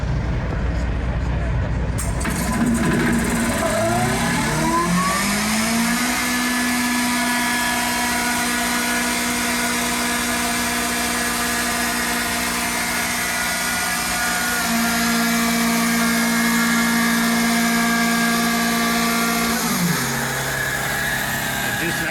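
A 45 CFM, 150 PSI rotary screw air compressor starts up and ramps into a rising whine that settles into a steady loud drone, then drops in pitch near the end as it begins to slow. Someone talks over it.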